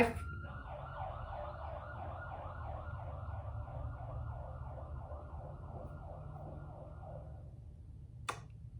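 A rapid warbling siren yelps continuously for several seconds, faint and distant over low rumbling, then cuts off before a short sharp click.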